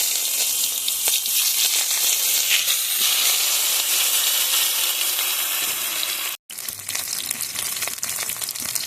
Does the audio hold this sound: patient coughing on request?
no